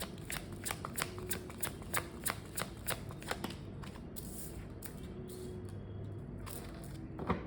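Tarot cards are shuffled by hand in a run of quick crisp riffles and soft slaps, close and fairly quiet, settling into a faint rustle near the end.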